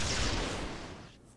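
Mortar fire explosions in the video game Myth II Soulblighter, a brief muffled blast with a noisy rumble fading over about a second.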